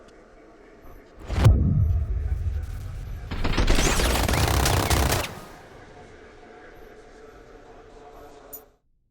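Gunfire in the Batman: Arkham Knight video game: a sharp loud blast followed by a sustained burst of rapid automatic shots lasting over a second, then quieter game ambience.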